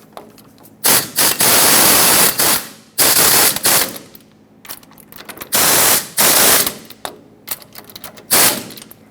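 Impact wrench or power tool driving in the brake caliper bracket bolts on a 1995-2004 Toyota Tacoma 2WD front brake job, several loud close bursts of whirring rattle separated by short pauses, no talk.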